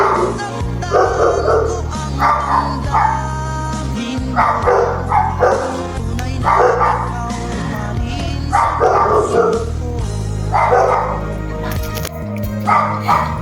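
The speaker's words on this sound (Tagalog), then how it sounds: "Ngayon ang aso." A dog barks repeatedly in uneven bursts of two or three, loud and close, with short pauses between the volleys.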